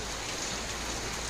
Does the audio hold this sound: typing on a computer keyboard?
no